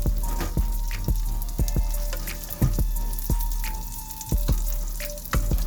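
An Impossible vegan burger patty sizzles steadily in a pan over turned-down heat, with sharp scraping clicks of stirring roughly every half second to second, all close and without talk.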